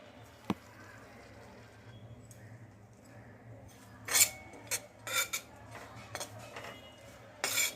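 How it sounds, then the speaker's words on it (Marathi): Finely ground cashew and almond powder being stirred and roasted in a little ghee in a pan, with a quiet background and then scattered scraping clinks of a spoon against metal, growing busier toward the end. "काजू आणि बदामची जी आपण बारीक पावडर तयार केलेली आहे ती आता परतून घ्यायची आहे थोड्याशा तुपावर"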